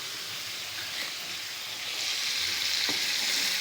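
Chicken karahi frying in a pan, a continuous bright sizzle that swells slightly louder partway through, with a faint utensil tap near the end.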